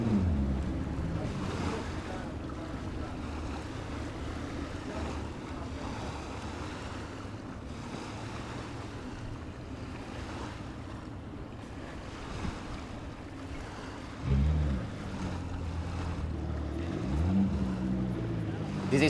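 Several racing boats run on open water around a green buoy, with steady wave, wind and engine noise throughout and a louder close pass near the end; a commentator talks over it.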